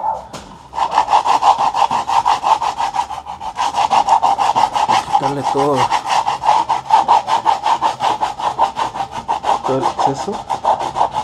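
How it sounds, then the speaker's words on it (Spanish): Rapid back-and-forth scraping of sandpaper over rubber tire lettering, a steady rasping rhythm up close, with a brief spoken comment partway through. "Ahora lo que vas a hacer es con una lija."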